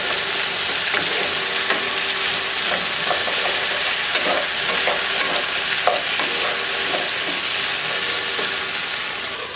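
Vegetables frying in a pan under a steady, dense sizzle, with occasional scraping and clacking as they are stirred, close and continuous with no talking.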